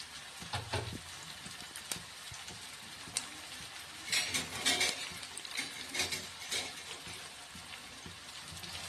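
Curry leaves being stirred in a hot frying pan, a soft continuous scraping and sizzling with a few brighter clinks and crackles of a utensil against the pan, close and moderately quiet, no voices.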